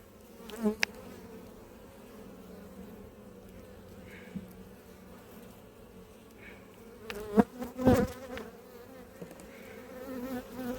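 Honeybees in an apiary hum in a steady, soft buzz during a hive inspection, with a few louder passes as individual bees fly near.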